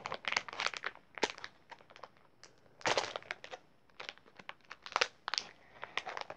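Packaging from a holiday stocking being torn open by its tear strip, giving repeated crinkly rips and crackles in short bursts, close and fairly quiet, with pauses between pulls.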